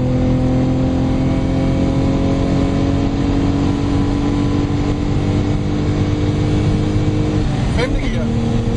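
A supercharged 3.6 Lotus Omega accelerating hard through the gears, its loud engine note climbing steadily before a quick gear change, heard from inside with a voice talking over it.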